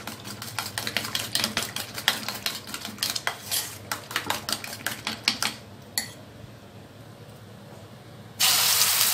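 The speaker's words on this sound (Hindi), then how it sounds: "अब इसको अच्छे से फेंट लेंगे।" Eggs beaten vigorously in a bowl with chopped coriander, rapid clattering whisk strikes against the bowl in a quick uneven rhythm, then a pause and a loud hissing burst at the end.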